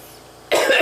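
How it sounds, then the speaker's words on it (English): A single harsh, wet cough from a person bringing up thick mucus bursts out loudly after half a second of near silence, sounding close and throaty. "when I cough, that wasn't for acting, that was a cough"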